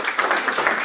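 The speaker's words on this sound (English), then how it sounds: "I saw Jonathan start to clap, and then no one clapped, so he pulled his clap back" A lone person claps a few quick times at a franchise graduation ceremony, then stops; the brief patter is close and dry, with no crowd joining in.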